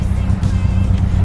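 Nissan R32 GT-R engine overfueling while coasting downhill with faulty MAP sensors, a loud, rough, burbling low rumble heard from inside the car, continuous and close.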